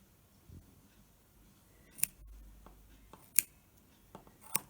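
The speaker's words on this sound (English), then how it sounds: "I'll go in with some scissors" Scissors snipping yarn on a finished knitted sleeve, a few sharp, close, quiet clicks spaced irregularly, with soft handling rustle between them.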